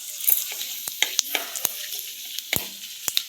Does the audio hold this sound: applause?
no